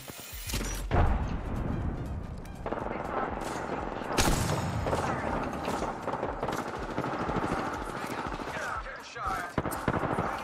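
Frag grenade explosion in a battle royale shooter game, a loud broadband boom near the one-second mark followed by a second blast around four seconds, set amid continuous gunfire and dense game action.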